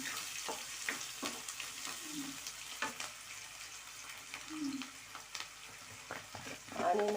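Chopped onions frying in hot oil with mustard seeds and cumin for a banana flower curry, a steady close sizzle with small crackles and a few stirring scrapes throughout.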